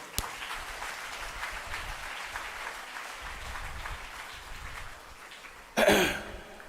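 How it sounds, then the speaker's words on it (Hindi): Audience at a Hindi religious discourse clapping, a soft, distant patter of many hands through most of the stretch, ending in a sudden loud burst of noise near the close. "दोनों हाथ उठा के ताली बजाइए"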